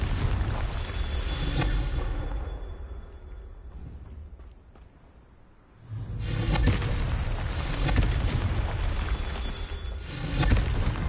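Confringo explosive spell in the video game Hogwarts Legacy, a loud booming blast with a rushing roar that dips briefly and then swells again into a sustained rumbling crash, dense and full-bodied throughout.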